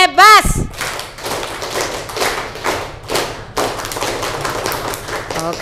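A group of schoolchildren claps along in rhythmic patterns, a run of sharp, fairly loud claps in uneven bursts with short pauses, during a school orientation session.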